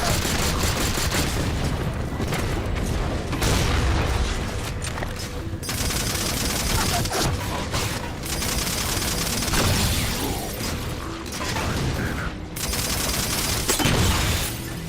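Sustained video game gunfire in a Halo battle, dense bursts of automatic weapon fire and booms going on throughout against a loud, busy mix of effects.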